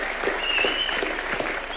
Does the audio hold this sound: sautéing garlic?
no